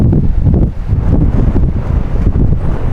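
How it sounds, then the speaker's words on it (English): Strong gusts of 20 to 25 mph wind buffet the microphone outdoors at a rifle range, a steady loud roar and rumble with no voices. "I'm just gonna let this wind die down a little bit."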